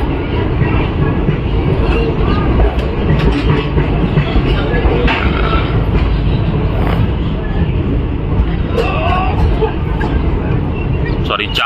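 The Bareilly-Indore Weekly Express rolls into Ujjain Junction with a steady, loud rumble of wheels and carriages throughout, with crowd chatter faintly mixed in.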